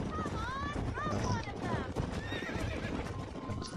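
In the Xbox game Red Dead Redemption, a horse whinnies repeatedly over clip-clopping hooves, with a distant gunshot-like crack, while someone talks over the game sounds.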